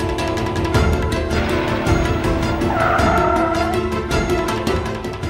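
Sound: car braking to a sudden stop

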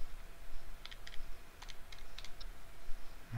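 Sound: typing on a scientific calculator keypad

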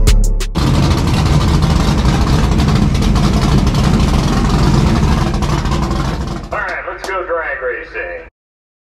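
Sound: truck exhaust with Flowmaster mufflers

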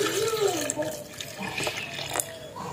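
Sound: milk being poured into a blender grinder jar

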